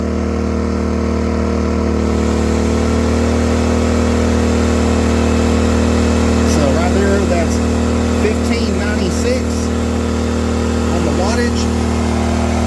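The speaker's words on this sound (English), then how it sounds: "you can hear that the generator's, you know, it's handling it just fine" A LIFAN 2000W pure sine wave generator runs under load with a steady, loud engine drone and a constant hum, while someone talks over it.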